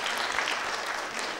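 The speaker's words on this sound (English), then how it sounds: "You clap for him again," An audience applauding for Eric at a keynote gathering, dense steady clapping from many hands throughout, moderately loud and unbroken.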